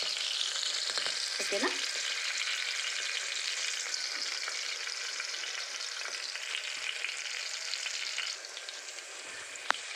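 Fenugreek seeds and green chilies frying in hot oil, a steady bright sizzle running the whole time with a brief stir near the start and a short spoken word.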